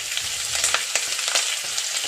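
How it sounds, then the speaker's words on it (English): Sliced red onion frying with cumin in a hot pan, a steady close sizzle with light stirring scrapes and small crackles, no voices. "You can add the sliced red onion"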